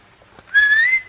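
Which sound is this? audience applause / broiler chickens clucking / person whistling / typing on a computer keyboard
person whistling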